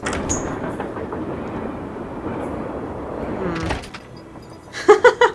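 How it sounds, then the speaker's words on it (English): Train sounds in the Nancy Drew game Last Train to Blue Moon Canyon: a steady rumbling rolling noise from a rail car that eases off, followed by a few sharp clunks and rattles near the end. "Every time a train whistle sounds, you guys should say, "Train whistle sound.""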